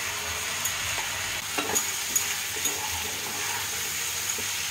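Chopped ash gourd tipped into a frying pan with oil, salt and sugar: a loud close sizzle with stirring scrapes and a few soft clatters from the spoon.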